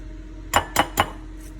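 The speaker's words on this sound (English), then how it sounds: "I am going to break 2 eggs" Two eggs cracked on a bowl rim over a cup of light buttermilk while baking a lemon berry cake: three sharp, close taps in quick even succession, then quiet.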